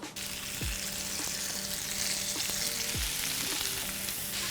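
Lots of garlic sizzling in olive oil in a cast iron pan, a dense steady crackle and hiss with a few faint tool clicks, close and continuous with no talking.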